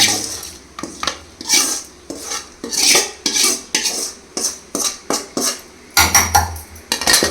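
A coconut mixture being scooped into a mixer jar, with repeated close metallic clanks and scrapes of a spoon against steel vessels in an uneven rhythm, loud and alone.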